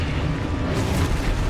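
A Confringo fire spell bursts in a rumbling explosion in Hogwarts Legacy, a short, loud boom that carries through the brief moment.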